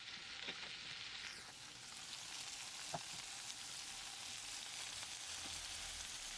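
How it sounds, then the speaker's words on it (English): Shrimp sizzle and crackle steadily in a hot pan, a constant frying hiss with a few small pops, no voices. "you want to put the shrimp in, and you want to hear that sizzle"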